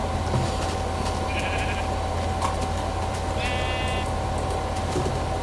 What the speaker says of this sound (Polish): czarna owca